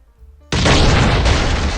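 Explosives blow up a house in the survival video game Last Island of Survival, a sudden loud booming blast that follows a faint electronic tone and keeps roaring, with a second burst partway through.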